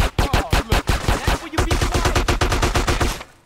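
Rapid pistol gunfire in GTA San Andreas Remastered, a dense run of loud, close shots in quick succession with a brief pause midway before firing resumes.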